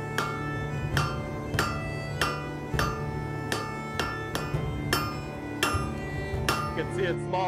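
A hammer strikes wrought iron being forge welded onto O1 steel at a regular, steady rhythm, about eleven ringing metallic blows over several seconds, loud and close, with no talking.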